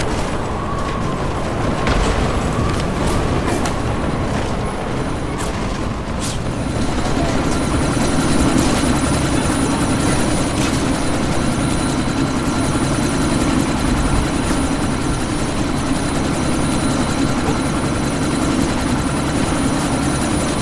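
A helicopter's rotor beats and engine roars continuously and loudly in the video game Deus Ex: Mankind Divided during a sandstorm, with whooshing wind and sharp clatters early on.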